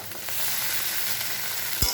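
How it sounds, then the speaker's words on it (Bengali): Egg chowmein noodles with Maggi masala and salt are stirred in a frying pan, giving a steady close sizzle and a brief scrape near the end. "দিয়ে এগুলো দিয়ে ভালো করে নাড়বো"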